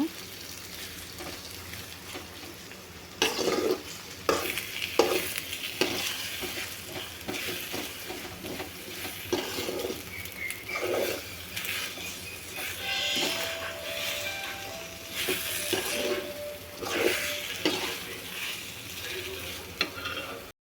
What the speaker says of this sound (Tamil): நல்லா கிளறி விட்டுட்டே இருங்க. நல்லா பபிள்ஸ் ஆட்ட வரணும் அந்தளவுக்கு.